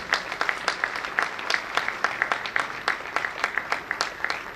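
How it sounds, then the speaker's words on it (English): Rhythmic applause rises from a modest audience at a university awards ceremony, with distinct individual claps repeating steadily and close by, and no speech over it. "Ladies and gentlemen, please give a round of applause."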